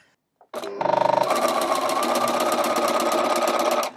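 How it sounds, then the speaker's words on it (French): A domestic sewing machine stitches a long diagonal seam on quilting fabric using a quarter-inch guide, starting with a short burst and then running continuously at a steady fast rattle before stopping. "on va coudre tout du long"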